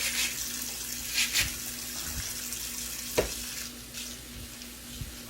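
Kale leaves are washed under a running kitchen tap, with a steady water hiss and scattered splashes and soft knocks as the greens are handled in the sink, close by and without talk.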